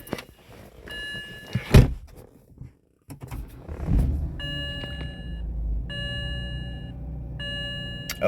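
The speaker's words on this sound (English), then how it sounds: "No more warnings besides an annoying beep because the clock isn't set." After a couple of thumps, a BMW E60's electronic warning chime for an unset clock repeats in a steady rhythm of short tonal beeps over a low engine hum.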